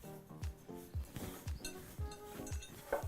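Gritty scraping and clinking as succulent soil mix is stirred together with added grit, a steady rhythm of rough strokes close by.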